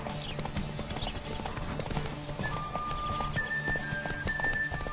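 A horse gallops in The Witcher 3 video game, rapid rhythmic hoofbeats drumming steadily and close for the whole stretch, with faint game ambience and a thin whistling tone behind.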